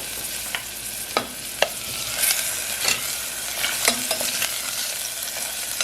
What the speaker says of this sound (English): So I've got some onions sauteing in olive oil.